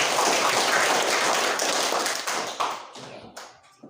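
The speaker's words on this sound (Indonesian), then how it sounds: "tepuk tangan untuk kita." A classroom of students applauds together, a loud dense burst of clapping close by that thins out and ends with a few scattered final claps.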